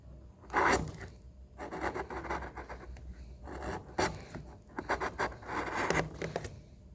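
A sharp chisel pares wood on an oil stone case, giving repeated rasping, scraping strokes in uneven bursts, close up and fairly steady with short pauses between passes.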